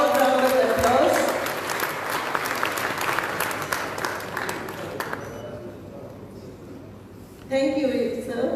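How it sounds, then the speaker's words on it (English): Audience applause at a Goa headmasters' association felicitation ceremony for retiring staff, a dense sustained crowd clapping that fades toward the end before a sharp burst near the close, with voices mixed in. "Can we have a loud round of applause?"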